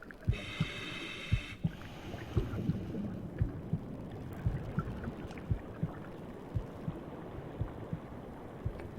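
A heartbeat warning cue from a shark video game pulses in a steady double-thump rhythm under murky underwater ambience, with a brief bright tone at the start, no talking.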